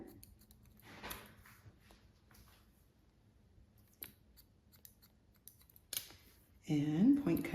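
Scissors snipping into hair with point-cutting strokes during a men's haircut, giving a few faint, sparse clicks spread across quiet stretches, with a louder burst of sound near the end.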